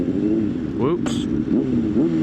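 A motorcycle engine shifting into neutral while riding: a steady close engine drone with a brief dip and whine as the gear changes, then the engine settles into a lower, even hum.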